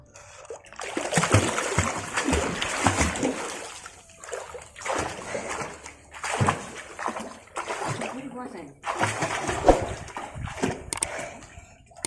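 Children learning to swim jump into well water, producing several loud splashes and sloshing bursts spread across the stretch, with people talking and calling out around them.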